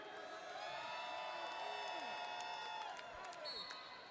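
A roller derby crowd at a Portland versus Seattle bout cheers and whoops loudly and continuously, with shrill voices rising and falling over steady arena noise.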